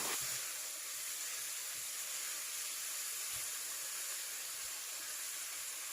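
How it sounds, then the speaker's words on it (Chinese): Mugwort leaves stir-frying in oil heated to medium in a wok over a medium flame, giving a steady, even hiss and sizzle close by that runs throughout without talk. "锅里烧油，油温5-6成热，将艾叶倒入锅中，中火将它炒至有点发烟的状态"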